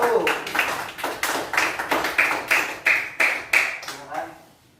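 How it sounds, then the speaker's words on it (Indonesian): A classroom group claps together in a steady, rhythmic beat, about a dozen sharp, evenly spaced strikes, welcoming the first student group forward to present during a teacher-training session. "Kita beri tepuk tangan dulu buat kelompok 1."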